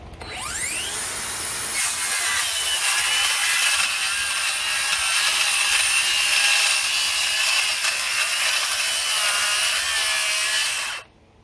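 Cordless brushless circular saw, a Kobalt X.T.R. or Ryobi, ripping a board lengthwise, steady loud whining cut held for about nine seconds with a gritty rasp, then stopping abruptly.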